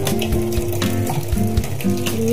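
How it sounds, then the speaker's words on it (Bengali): Steady tap water runs into a bowl while rice is rinsed in a home kitchen, a continuous close splashing rush with faint clinks. "চালটা এবার ধুয়ে নিচ্ছি।"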